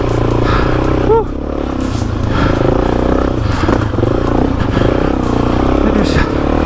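A Suzuki DRZ400e dirt bike being ridden, its engine droning steadily and loudly up close with rattling and clatter over it and wind buffeting, while a rider speaks over the noise.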